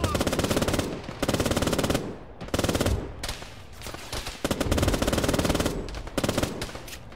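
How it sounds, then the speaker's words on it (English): Long bursts of machine gun fire in the military video game Arma roar continuously and loudly, broken by short pauses between rapid strings of shots. "God, I'm going through rounds so fast."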